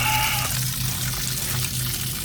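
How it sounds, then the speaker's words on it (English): Water rushes steadily from a hose in a continuous, close gush with a brief tonal whine at the start, no voices present. "Water hose hooked to it."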